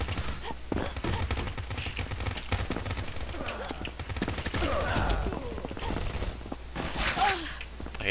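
Rapid bursts of automatic gunfire in the shooter game Combat Master, dense repeated shots in uneven clusters with a few short pauses, loud and close, with faint game voices mixed in.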